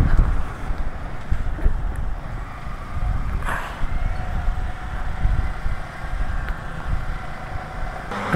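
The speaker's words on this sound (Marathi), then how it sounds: "अरे इतना जोरात वारा येते त्या बघतो." Strong wind buffeting a microphone near a road tunnel on the way to Srinagar, loud low rumbling gusts that rise and fall throughout, with no talk.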